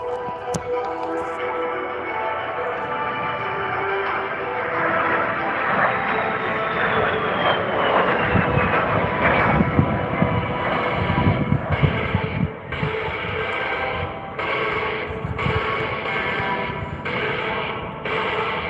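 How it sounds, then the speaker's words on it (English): A de Havilland Vampire jet flies past at an airshow with a loud, sustained broadband engine roar and a falling whine, swelling to a peak mid-pass and then receding. The roar stays strong throughout with rhythmic pulsing near the end, and no talk is heard. "coming in from the left, here's Jerry Conley, Flag, and the Vampire"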